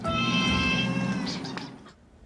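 A cat lets out a long, drawn-out meow, close and clear, trailing off into quiet.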